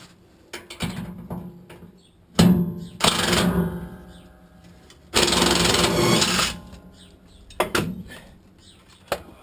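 Rattle gun impact wrench at work on a V8 Hilux teardown: loud, close, buzzing hammering bursts of a few seconds each, separated by quiet gaps with small clanks of tools.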